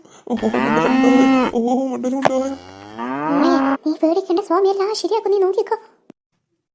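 A cartoon cow gives two long, loud, drawn-out moos near the start, followed by a child-like cartoon voice speaking.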